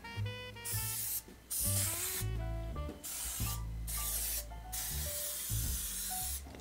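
Nonstick cooking spray hisses into a 2.5-quart casserole dish in several sharp, close bursts separated by short pauses, with steady background music underneath.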